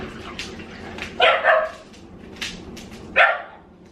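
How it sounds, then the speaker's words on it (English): Several dogs bark and yip happily in a home kitchen, coming in short loud bursts spaced a second or so apart and fairly close. "And my dogs. They're happy I'm home."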